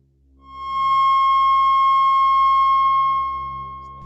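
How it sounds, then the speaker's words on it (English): Pure sine tones sound together as a steady F sharp major chord, a loud sustained electronic tone that swells in, holds for about three seconds, then eases off. "a perfect three-part major chord in the key of F sharp"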